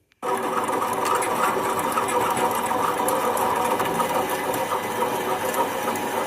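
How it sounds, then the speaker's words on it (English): A drill boring into a metal tube for a motorbike engine stand starts abruptly and then runs as a loud, steady, high-pitched whine with a rattling buzz, continuing without a break and with no talk. "Just started to drill this."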